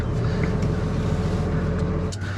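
Truck tires spin in place during a tug of war between a Tesla Cybertruck and a classic Ram Cummins, a steady engine drone with a roaring low rumble that cuts off abruptly near the end.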